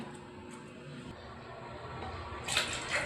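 Warm water runs steadily for a child's bath, a soft continuous pour with brief brighter splashes near the end; no talking.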